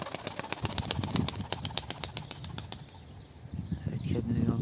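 A young pigeon beats its wings rapidly while taking off during early flight training. The quick, rhythmic flaps sound close at first, then fade into quieter ambient noise.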